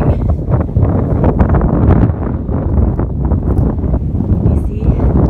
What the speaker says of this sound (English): it's getting windy and cold and rainy